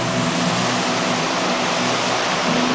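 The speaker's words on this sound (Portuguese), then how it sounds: "Acho que é isso aqui que eles falam que é a cachoeira" A waterfall on a rocky cycling route in Jordânia, Minas Gerais, gives a steady, broad rushing roar, close and constant for a few seconds with no voices.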